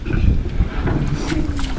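A safari boat moves across open water, with a steady low rumble of motor and water wash mixed with gusty wind noise and no voices.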